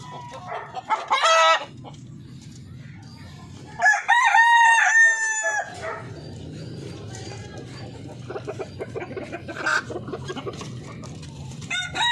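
Native Darag chickens clucking, with a loud rooster crow in the middle and softer clucks around it, close by, while someone talks over parts of the scene.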